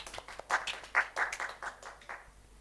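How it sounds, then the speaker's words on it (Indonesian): A small group applauds for Bu Ica: light, brief clapping with a few sharp claps standing out, fading after about two seconds. "tepuk tangan Bu Ica"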